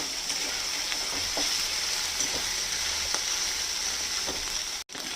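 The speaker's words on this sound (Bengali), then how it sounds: "এবার এটাকে একটু ভাজা করে নেব" Boiled and mashed dried fish (shutki) frying in hot oil, a steady close sizzle with small crackles and occasional stirring clicks, heard alone without voices.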